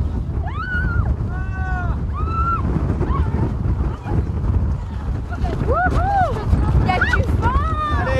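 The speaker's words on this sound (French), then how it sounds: "Aujourd'hui, il y a beaucoup de vent, mais il n'est pas très froid" Strong wind roars steadily across a mountain summit, a loud, continuous buffeting rumble on the microphone, with voices calling out briefly now and then over it.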